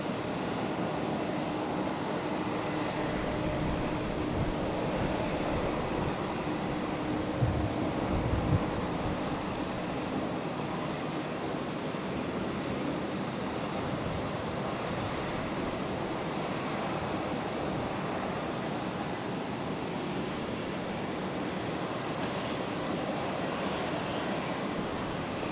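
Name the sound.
Qantas airliner taking off at Brisbane Airport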